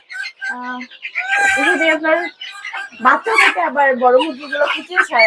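Native chickens and chicks cluck and squawk close by on a poultry farm in a busy, overlapping chorus, with voices mixed into the noise.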